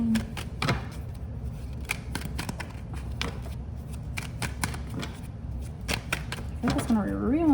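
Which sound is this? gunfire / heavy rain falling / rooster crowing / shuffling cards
shuffling cards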